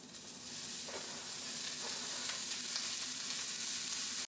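Broccoli and onions fry in a pan with a steady, dense sizzle that swells as the vegetables go in and then holds constant and close, with faint stirring and no talk.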